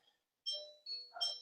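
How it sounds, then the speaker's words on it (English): A doorbell chimes indoors in a home office setting, a short clear ding-dong with two bright tones followed by another ring, loud against an otherwise quiet room with no talking. "Sorry about that doorbell there."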